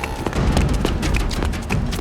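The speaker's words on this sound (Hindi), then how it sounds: "गोली चलने की आवाज कहां से है?" Several sharp, booming cracks burst out in quick irregular succession, like gunfire echoing nearby, with dense noise between them.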